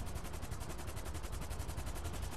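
Rapid automatic gunfire rattles nonstop in GTA 5 Online, a dense, even string of loud shots with no pauses across the whole stretch.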